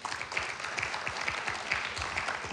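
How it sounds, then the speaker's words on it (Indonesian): Applause for a church ushers team at a youth and young adults service, a moderately faint, steady spatter of clapping from the congregation that continues evenly with a few louder claps poking through. "Kasih tepuk tangan untuk tim Asyir teman-teman"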